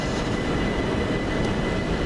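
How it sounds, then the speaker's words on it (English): A loud, steady low rumble of a train rolling along the rails as it arrives at a station, continuous and close, with no voices. "And here is my train."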